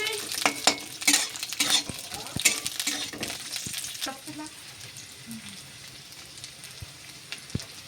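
Jackfruit seeds fry in hot oil in a wok on a gas stove, salt stirred in, with a steady sizzle broken by scraping and clinks of a spoon against the pan that fade toward the end.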